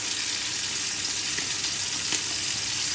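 Chopped onions sizzle in melted butter in a pan for a chicken pie, a steady, dense crackle with a few faint pops, close and continuous with no talking.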